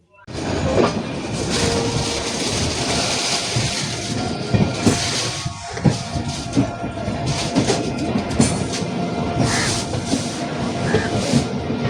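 A train pulls out of Howrah station bound for Puri, heard from inside as a loud continuous rumble with rattling carriage noise, hissing and rhythmic clacks throughout.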